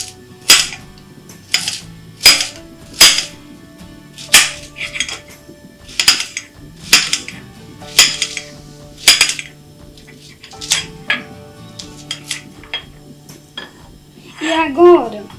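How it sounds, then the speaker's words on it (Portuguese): A knife chops banana plant stem into small round pieces on a board, producing a series of sharp, close knocks at an uneven rhythm, and a voice enters briefly at the end. "Vamos picar redondo, pequenininho."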